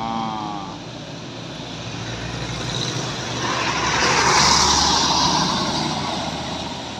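Truck passing at a railway crossing, a broad rumbling road roar that swells gradually to a peak and then eases away, loud and steady with no voices over it.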